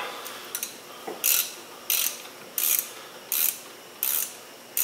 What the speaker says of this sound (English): we will take our 19 millimeter socket and hand tighten these guys down